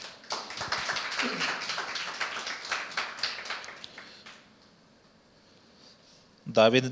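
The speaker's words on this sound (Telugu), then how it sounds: "గట్టిగా చప్పట్లు కొట్టండి ఒకసారి" A church congregation claps loudly during a Telugu sermon, with dense, rapid hand claps that fill the room for about four seconds before fading to quiet. A sharp knock sounds near the end.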